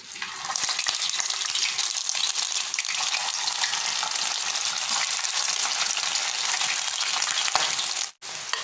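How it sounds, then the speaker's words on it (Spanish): Small meatballs frying in a pot, a continuous bright sizzle with light stirring that holds steady for several seconds before a brief break near the end, no voices. "Voy a ponerlas a freír aquí en mi cazuela"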